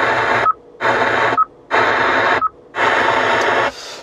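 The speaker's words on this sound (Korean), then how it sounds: "지금 주파수가 잘 안 맞아서 조금 지지직거리는 부분이 있는데 라디오는 정상적으로 잘 나오고" Harsh bursts of static from a poorly tuned car radio in a Hyundai Grandeur HG, four loud hissing blasts separated by short silences, each ending with a brief electronic chirp.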